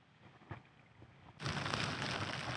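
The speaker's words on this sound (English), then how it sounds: "Well, it's wet and windy, as you can probably hear." Rain and wind squalls lash a tent while wild camping beside a mountain lake: a soft patter at first, then a loud gust-driven rush of rain that starts abruptly and stays dense and steady.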